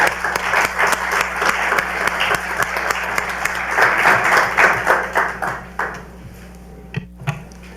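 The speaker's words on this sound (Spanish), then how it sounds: "al doctor Mariano Jabonero, para quien les pido un muy fuerte aplauso." Sustained applause from a crowd, dense clapping that swells and then tapers off to a few last claps.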